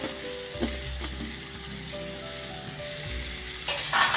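Cabbage and capsicum stir-fried in a pan for chicken macaroni, a steady close sizzle with scraping stirs and occasional clatters of the spoon against the pan, no voices.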